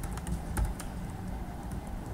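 Soft, rapid keyboard clicks tapping irregularly over a low background hum, close and fairly quiet.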